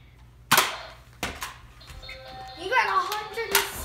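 Nerf gun shots at target practice: two sharp snapping pops about a second apart, close by, followed by someone talking excitedly with another small click.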